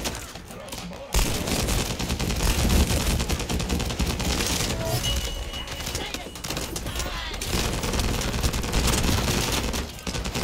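Gunfire from a shotgun in The First Descendant, a sci-fi shooter game: loud, dense bursts of repeated blasts and impacts crowd together almost continuously, with a brief lull near the start and a voice speaking briefly.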